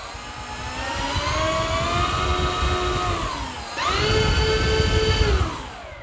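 Electric motor of a Dynam B-26 Marauder 1.5m twin-engine RC warbird spinning up on a throttle test, a steady whining drone with rising and falling pitch, briefly easing off before a second louder run-up.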